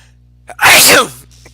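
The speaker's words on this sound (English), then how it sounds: "I knew the sneeze was coming" A single loud sneeze with a short intake of breath before it, close and clear against a quiet background.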